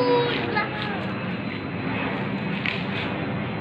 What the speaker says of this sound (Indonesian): Wah, iya ada pesawat tuh.